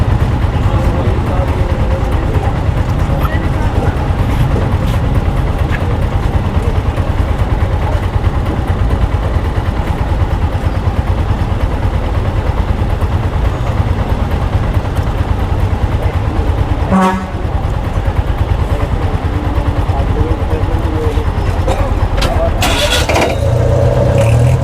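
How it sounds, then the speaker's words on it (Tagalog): Busy road traffic with car engines rumbles steadily and loudly nearby, a continuous low drone with passing vehicles and a brief louder burst near the end. "Traffic guys."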